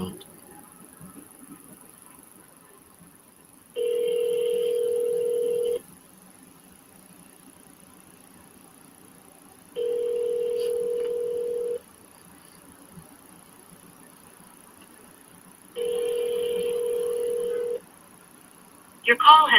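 Three bursts of touch-tone telephone dialing tones, each about two seconds long and evenly spaced, ring out clearly over a quiet background between pauses.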